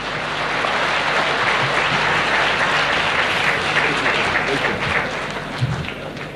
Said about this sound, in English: Give the applause to the children again.